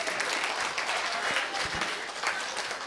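An audience gives steady, dense applause, many hands clapping continuously at an even level throughout.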